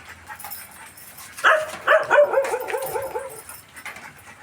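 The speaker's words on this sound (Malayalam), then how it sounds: "ഇത്രയധികം നായ്ക്കൾ എങ്ങനെ ഇവിടെ വന്നു?" Young rescued puppies, still unweaned, break into a cluster of high yips, barks and whimpers after a quiet start, close and fairly loud, then fade back to a low background.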